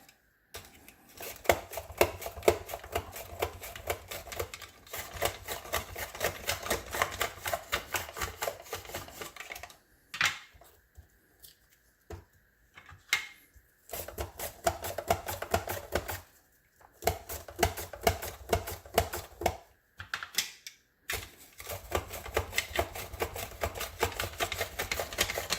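A knife slices onions on a cutting board in quick, steady, close taps, running in bursts separated by short pauses, alone without talk.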